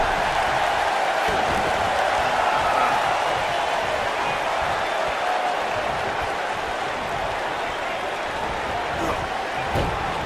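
A virtual arena crowd in the wrestling game WWE 2K19 roars steadily throughout, a dense, loud, unbroken wash of cheering with faint thuds mixed in.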